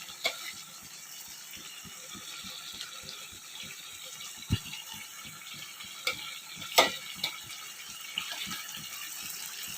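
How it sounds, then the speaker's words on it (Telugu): Water poured into a pan of chicken curry and stirred: soft watery sloshing and scraping with a regular rhythm of stirring clicks, a few sharper knocks, faint and close, without talking. "ఈ వాటర్ పోసేసుకొని బాగా తిప్పుకొని"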